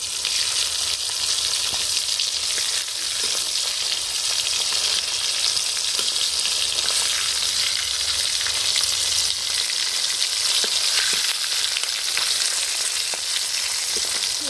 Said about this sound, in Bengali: তোমার রান্না করতেছি কি মাছ ইলিশ মাছ ইলিশ মাছ ভাজি ইলিশ মাছ রান্না